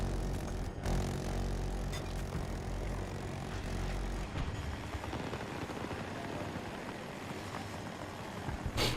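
Helicopter rotor and engine roar in the shooter game Battlefield 2042, a loud, steady drone filling the clip with a couple of sharper bursts near the start and end, no talk over it.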